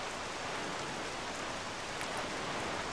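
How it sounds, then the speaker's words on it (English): Steady rain falling in The Legend of Zelda: The Wind Waker, a dense, even hiss of drops with a constant level throughout and no other sounds. "It's raining now."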